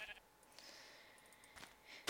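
Sheep bleating in the video game Minecraft, a few short nasal calls spread across a couple of seconds at moderate level over a quiet game background, with no talk.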